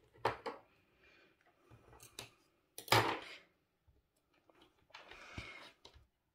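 Scissors snipping crochet yarn after finishing a round, a few isolated close clicks and snips with quiet gaps between them, soft and alone.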